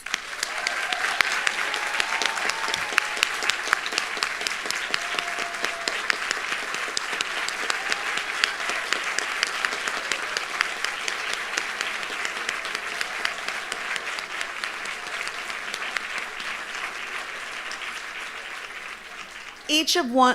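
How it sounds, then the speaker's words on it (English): A long, sustained round of applause for new graduates at an Emory University nursing graduation ceremony, steady crowd clapping holding even for about twenty seconds before tapering at the close. "Please join me in giving our newest graduates a final round of applause"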